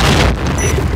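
A bomb explodes in a first-person shooter game, a loud, close, sustained boom that fills the whole moment with deep rumble.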